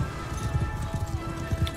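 Armored horse hooves clopping in the video game Mount and Blade Bannerlord, a quick uneven run of muffled thuds over a steady game background hum.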